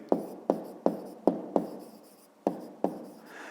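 A pen taps and scratches on paper while numbers are written out for a fifth-grade math exercise, giving seven crisp, quiet strokes in a loose rhythm, close up.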